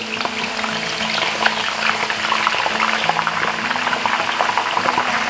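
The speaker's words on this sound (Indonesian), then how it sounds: "Ini kita goreng dulu bawang putihnya, dan nanti minyaknya ini buat menggoreng kacang." Garlic bubbles and sizzles vigorously in hot oil in a pan, later used for frying peanuts, a dense, continuous close-up frying hiss with crackling pops and no talking.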